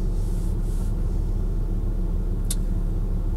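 A 1996 Volvo 850 driving down the road gives a steady low engine rumble and road noise from inside the cabin, constant and fairly loud throughout, with one brief sharp click near the end.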